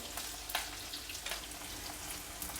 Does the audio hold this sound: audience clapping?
no